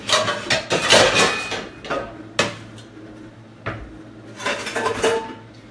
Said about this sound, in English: So I'll get my utensils here.